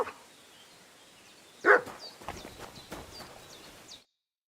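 The dog Mutt from Kingdom Come Deliverance 2 gives one sharp bark, followed by softer clopping and scuffling in a quiet game scene.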